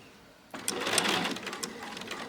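A sewing machine stitches a straight seam through a scrappy piece of quilting fabric, starting abruptly after a quiet moment into a fast, close, rattling run of needle strokes.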